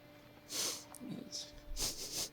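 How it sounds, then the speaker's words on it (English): Sharp nasal sniffs from the Joker in The Dark Knight (2008), a few short breathy bursts close up, with faint film audio beneath. "He's like sniffing her."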